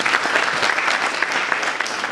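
Audience at a graduation ceremony applauding the graduates: loud, dense clapping from many hands, steady and close throughout with no voices over it.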